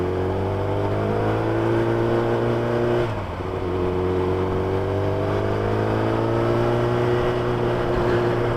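A 2012 Kawasaki Ninja ZX-10R superbike with about 57,000 km on it accelerates on the road, its engine note rising steadily in pitch, with a brief dip at a gear change before climbing again, close and continuous.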